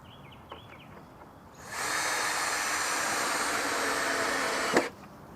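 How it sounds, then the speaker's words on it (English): A power drill drives screws into wooden pallet planks while a raised garden bed is being built. The motor whines steadily and loudly for about three seconds, with a clunk at the end and quiet before it starts. "we're ready to drill everything together"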